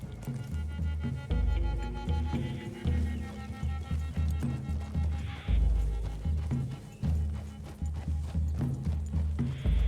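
Steady clip-clop of hooves on hard ground in the video game Red Dead Redemption 2, several horses walking in a loose rhythm over low rumbling background sounds and occasional deeper thuds.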